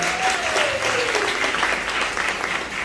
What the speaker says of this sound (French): On va applaudir tous ses camarades ici.